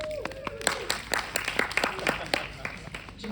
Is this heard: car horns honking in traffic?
no